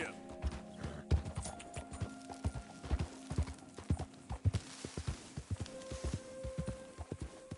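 Hooves clip-clop in an irregular walking rhythm from a horse in the video game Red Dead Redemption 2, close and distinct, with speech mixed in.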